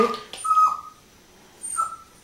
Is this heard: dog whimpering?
yes